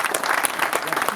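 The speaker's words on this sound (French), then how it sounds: "Merci beaucoup pour l'applaudissement." A brief burst of clapping comes from a youth audience at a COJEP France conference with Charles Blé Goudé, with fairly close, quick claps from a small crowd.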